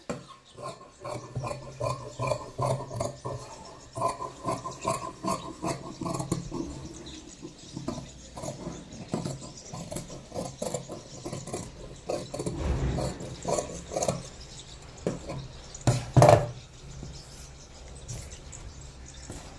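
Scissors cut through fabric for a size 36 katori blouse, marked directly on the lining material, giving a close, irregular series of soft snipping and rasping strokes with pauses and light handling sounds.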